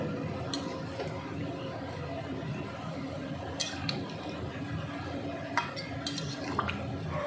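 Boiled potatoes and water are stirred in a pot, with a spoon clinking and scraping against the metal, occasional sharper taps over a low, wet bubbling background.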